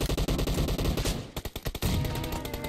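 Rapid automatic gunfire from the PUBG Mobile video game, with dense, loud bursts and a quick stuttering run of shots in the middle, close and continuous.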